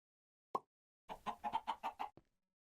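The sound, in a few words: chickens clucking in modded Minecraft video game, Modern Skyblock 3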